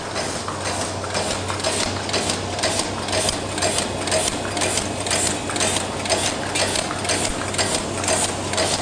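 A 2.5oz paper cup making machine runs non-stop with hot air heating, bottom knurling and top curling stations, giving a loud, steady mechanical clatter with fast regular ticking beats over a constant low hum, no voices.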